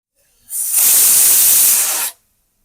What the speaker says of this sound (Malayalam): ഇത് ഞാൻ തീ കുറഞ്ഞതിന് ശേഷമുള്ള ഫസ്റ്റ് വിസിൽ വരുന്നതാണ് കേട്ടോ